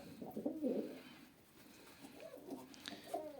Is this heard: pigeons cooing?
yes